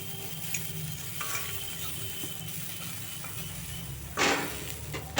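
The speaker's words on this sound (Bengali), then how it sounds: "মটরশুঁটিগুলোকে একটু ভেজে নিলাম" Green peas sizzling in a hot pan while being stirred, a steady soft frying hiss with occasional scrapes and a louder stirring clatter near the end; no talking.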